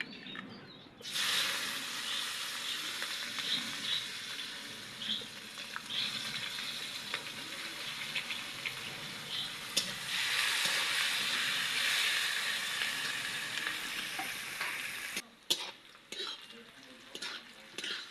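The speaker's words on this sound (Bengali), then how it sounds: "পেঁয়াজ লাল ভাজা হয়ে গেছে" Onions fry in a pan while mutton curry is being made. A continuous sizzle with stirring and scraping runs on and swells midway, then cuts off abruptly near the end.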